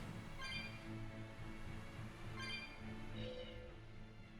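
A cat meows several times within the video game Tales of Berseria, short distinct calls spaced apart over a soft game background hum.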